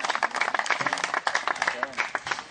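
Children at a summer school camp clapping together as a crowd, a continuous close burst of rapid applause with uneven peaks throughout, mixed with scattered voices.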